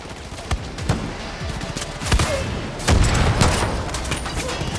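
Gunfire from the video game Far Cry New Dawn: a series of sharp shots and bursts with some booming impacts, dense and loud, while a voice speaks over the action.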